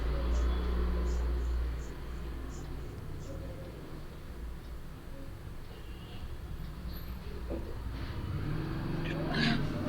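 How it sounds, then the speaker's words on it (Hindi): Road traffic from passing vehicles, heard as a steady low rumble with faint engine noise throughout and a brief louder swell near the end. "बहुत शोर आ रहा गाड़ियों का"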